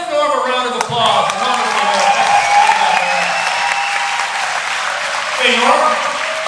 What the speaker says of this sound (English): Give Norm a round of applause.